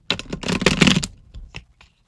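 Tarot cards riffled and shuffled in a burst of dense papery flutters for about a second, then a few softer taps and card slaps fading out, close and fairly loud.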